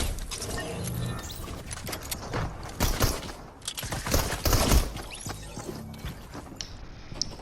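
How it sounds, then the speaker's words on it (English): Charged shotgun blasts in the video game Fortnite, several loud, sharp bursts clustered near the middle amid busy game noise and clatter, with no talking. "I'm pretty trash with the charged shotgun"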